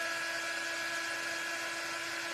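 A small electric dryer runs on Christmas craft decor with a constant high-pitched whirring whine, loud, close and steady throughout with no talking.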